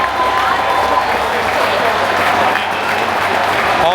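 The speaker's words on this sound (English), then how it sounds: "There has been a few boos mixed in with the cheers" A baseball stadium crowd in Pittsburgh roars as the pitcher Paul Skenes is taken out, a loud, steady mass of cheering and applause with boos blended in, continuous throughout.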